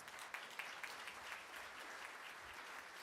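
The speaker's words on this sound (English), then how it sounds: "Let's give them another round of applause." A Rotary club audience applauds a men's vocal group after its performance: steady, dense clapping from many hands that stays even throughout, distant and soft in level, with no talking over it.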